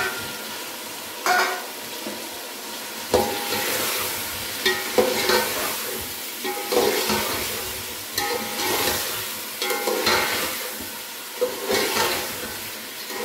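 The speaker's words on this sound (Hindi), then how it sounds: "चिकन को भी 2 से 3 मिनट जो है वो भूनना है।" Chicken pieces frying and being stirred in a pot for yakhni pulao, a steady sizzle broken by repeated scraping stirs every second or two, close and fairly loud with no voices.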